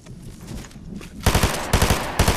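Video game gunfire: after a quieter stretch, three loud bursts of rapid automatic shots ring out in quick succession, close and sharp, with no talking over them.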